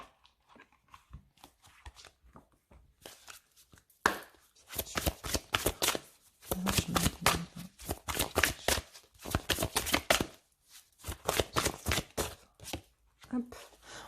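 Oracle cards from the Gaia deck being shuffled close up, quick repeated riffling bursts in irregular runs with short pauses, a voice speaking softly at the start.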